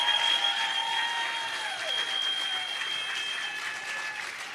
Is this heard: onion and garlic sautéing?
no